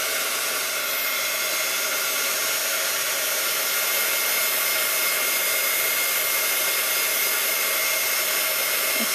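A craft heat tool melting UTEE embossing powder gives a steady, close, loud blowing hiss and whir, unbroken throughout, with no talking.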